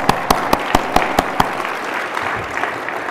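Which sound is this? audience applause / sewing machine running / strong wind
audience applause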